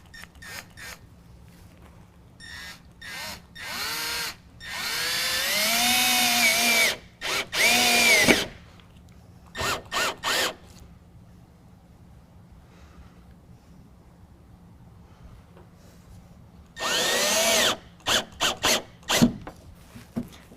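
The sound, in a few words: power drill driving self-tapping screws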